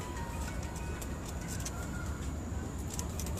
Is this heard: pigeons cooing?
yes